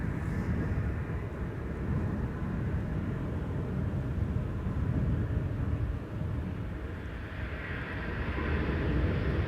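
Delta Airlines A330neo airliner landing in crosswind at Amsterdam Schiphol, a steady broad engine roar that holds loud throughout, swelling slightly near the end, with no voices.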